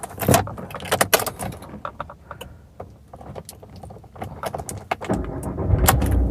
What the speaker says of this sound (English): Let's quickly switch on the car.